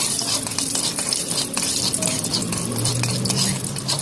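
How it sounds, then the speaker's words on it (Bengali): Panch phoron spices sizzle and fry in hot oil in a wok for dheki shak, a steady crackling hiss with light stirring and faint utensil clinks, close and continuous. "এবার কড়াইতে একটু তেল দিয়ে মা এখানে দিয়ে দিল একটু পাঁচফোড়ন।"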